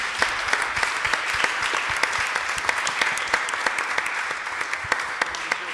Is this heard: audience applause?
yes